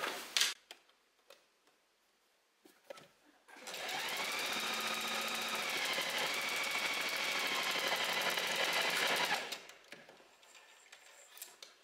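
A sewing machine runs in one continuous burst of fast, even stitching on a beginner mini skirt, close and loud for about six seconds, framed by softer handling clicks and brief quiet before and after.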